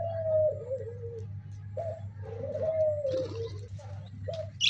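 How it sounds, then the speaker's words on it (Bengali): Tame birds feeding from a hand give soft, low cooing calls in short repeated phrases over a steady low hum, fairly close. "আপনাদের ডাক শোনাচ্ছে পাখিতে।"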